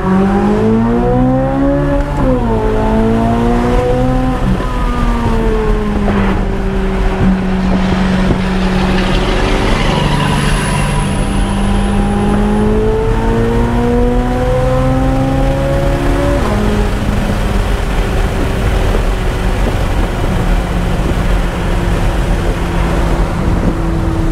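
A 2023 Chevy Corvette Z06 with its exhaust in track mode accelerates hard, loud and close, with engine pitch climbing through gears in repeated sweeps, brief dips at each shift, then surging again without any talk.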